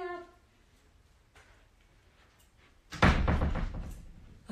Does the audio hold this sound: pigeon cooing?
no